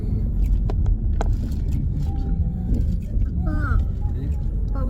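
A car drives along the road, heard from inside as a steady low rumble with occasional tire and road knocks, while voices talk over it.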